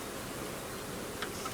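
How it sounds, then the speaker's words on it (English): A swarm of bees being boxed from a tree, a continuous soft buzzing hum filling the short stretch at a fairly faint, even level. "it's a big enough swarm that they're filling that box"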